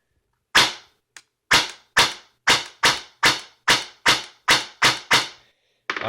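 An airsoft rifle with an aftermarket motor fires on semi-automatic: about a dozen sharp, crisp single shots in a quick, slightly uneven rhythm, close and loud, with short silences between.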